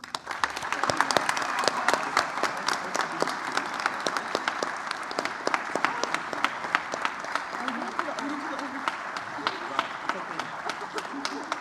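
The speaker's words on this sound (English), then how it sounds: "please join me in one final round of applause as we congratulate our newest members of the National Honor Society" A crowd applauds at a high school National Honor Society induction ceremony, sustained clapping with sharp individual claps standing out, fairly close and loud, with some voices mixed in.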